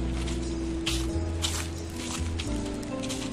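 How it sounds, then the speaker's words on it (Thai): Steady, broadband rushing water at Nang Rong waterfall in Nakhon Nayok, a continuous wash with no clear breaks and faint footsteps or rustling over it. "ก็เสียงน้ำตก"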